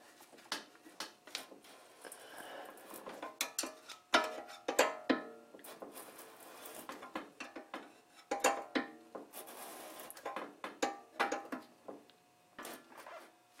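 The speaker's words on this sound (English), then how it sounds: "Now I'm gonna have to use the wrench on this one." A wrench working a coilover collar on an E46 M3 with Ohlins suspension, small metallic ratcheting scrapes and clinks in short irregular bursts, close and fairly quiet with pauses between turns.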